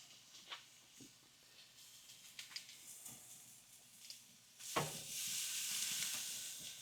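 Ribeye steaks on an open Kettle Joe kettle grill: a few faint taps and clicks, then a sudden loud, sustained sear hiss that takes over for the last two seconds.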